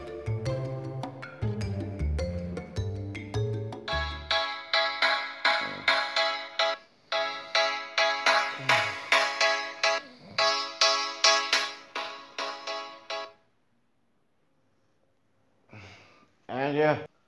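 A phone ringtone plays a repeating electronic melody for several seconds, loud and close, stops, and is followed by brief voice sounds near the end.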